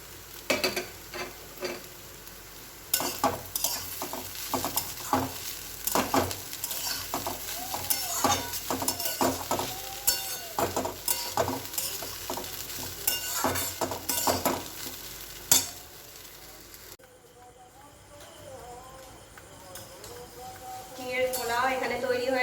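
A spatula scrapes and stirs chire pulao (flattened rice pilaf) in a sizzling pan with repeated rhythmic strokes, then pauses briefly before the frying sizzle picks up again.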